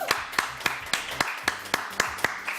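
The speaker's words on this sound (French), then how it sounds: "Je vous demande d'applaudir mon décor, les divines Manon et Isabelle II." A small studio audience on a French evening TV talk show claps in a sparse, evenly spaced rhythm of about ten sharp claps, close and fairly quiet, with no voices.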